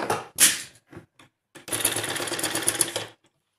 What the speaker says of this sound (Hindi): ये पूरे गले के ऊपर हम एक पैर का मार्जिन छोड़ते हुए सिलाई लगा लेंगे।